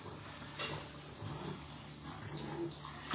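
Water runs steadily in a bathroom while dogs are bathed, a continuous rushing hiss like a tap or hose filling a tub, close and fairly even in level throughout.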